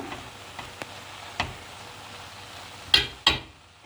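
Apple pieces caramelize in a pan with a low, soft sizzle, punctuated by a few light clicks and two sharper utensil taps near the end.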